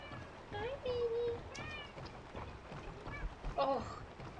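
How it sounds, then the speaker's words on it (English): A cat meows faintly in a basement, giving a few short calls, while people talk and game sounds play over it. "Kitty cat."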